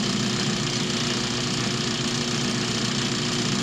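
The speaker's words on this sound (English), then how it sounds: "do the outside on my cloth wheel, or my buffing wheel" A motorized cloth buffing wheel spins steadily as a woodcarver hones the outside of a number 11 carving gouge, giving a continuous even motor hum with a broad whirring hiss and no pauses, close and fairly loud.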